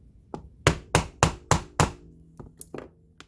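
A hammer strikes a metal hole punch on leather: five sharp, evenly spaced loud blows, followed by a few lighter, quicker taps, close by with no talking.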